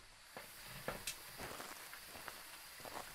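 Rain falling at a campsite in the video game Phasmophobia, a soft steady patter with scattered faint drips and crackles, alone and fairly quiet.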